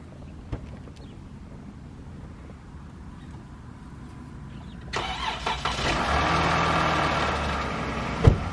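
A car engine cranks and catches in freezing winter cold in Havre, Montana, then settles into a steady, fairly loud idle after a few seconds of quiet outdoor background.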